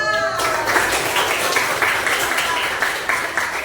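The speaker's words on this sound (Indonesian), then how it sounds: "Tepuk tangan untuk kalian semua." Students in a classroom clap together in steady, dense applause that carries on evenly throughout, with some voices mixed in under the clapping.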